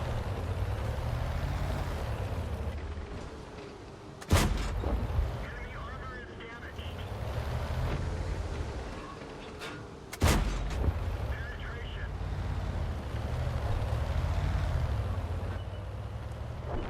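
Artillery shells land in a tank video game: two sharp, loud booming impacts about six seconds apart over a steady engine rumble, with a player talking throughout.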